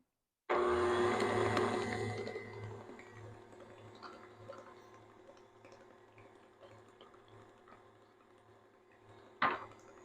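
An electric mixer runs on low speed through cheesecake batter with flour, starting with a loud whir that gradually fades to a quieter steady hum, ending in a brief clunk.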